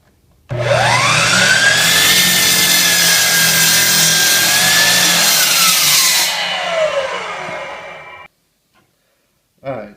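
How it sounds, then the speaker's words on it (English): Power saw biting through a hickory board, a loud sustained whine that rises as the blade enters the wood, holds a rasping cut for several seconds, then drops away and stops, followed by a short knock. "we're going to let the saw do the work"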